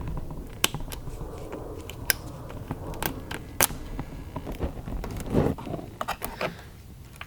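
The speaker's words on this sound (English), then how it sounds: "we're gonna have to cut some more cable ties or zip ties" Cutters snip through plastic cable ties on a Super 73 Z1 electric bike, several sharp clicks spaced irregularly over a low rustling background, with one louder cluster of handling noise in the middle.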